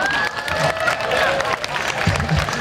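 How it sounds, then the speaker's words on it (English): Brief crowd applause and light cheering at a Philippine community weekend gathering, uneven and moderately loud, with voices and a short whistle-like tone mixed in. "thank you for the applause"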